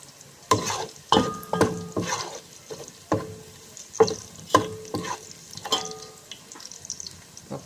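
Garlic stirred and sizzling in a frying pan, with a spoon or spatula scraping and clinking against the pan in irregular strokes, close and moderately loud with no talking.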